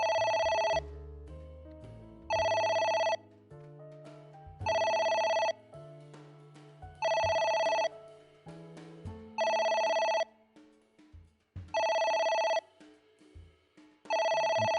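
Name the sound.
telephone ringing in video game Ai: The Somnium Files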